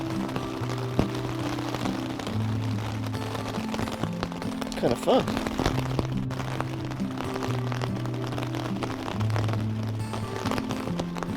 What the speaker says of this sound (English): I think the camera's catching all the raindrops out there.